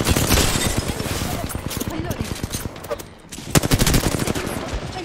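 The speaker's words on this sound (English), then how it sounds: "Watch it, cause there's a barrage right here." Gunfire barrage in the Apex Legends video game: loud rapid bursts of automatic fire and repeated shots, dense and sustained, with a brief lull before resuming.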